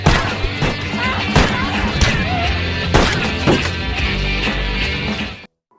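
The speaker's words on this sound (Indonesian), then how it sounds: "ia pun mendekati Michael juga menembakinya dengan membabi buta." Sharp gunshots crack out repeatedly, fired wildly at close range, amid loud, dense film sound in the Zodiac crime thriller from 2007, with a narrator speaking over them.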